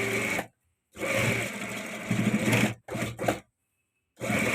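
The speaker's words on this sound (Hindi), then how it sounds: "जहाँ सिलाई लगी हुई थी उस सिलाई से हटा के हम थोड़ी सी सिलाई करेंगे।" A tailor's sewing machine stitches a pant waist during an alteration, running in steady bursts with short pauses between, close and fairly loud with no talk.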